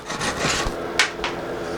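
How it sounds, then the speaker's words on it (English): A Japanese handsaw rasps through wood in a few short, scratchy strokes, close up, with one sharper stroke standing out. "So we're using our Japanese saw"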